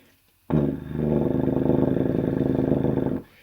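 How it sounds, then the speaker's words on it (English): A euphonium's low note blown with lips too loose gives a buzzy, rattling sustained tone that runs steadily for about three seconds before cutting off, played alone and close. "as a beginner player, you might be tempted to kind of make your lips a little too loose, and you'll come up with something like this"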